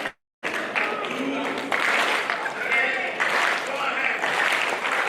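Audience clapping along together at an annual general meeting in Umuahia, a dense sustained patter of hands under brief talk after a short silent gap.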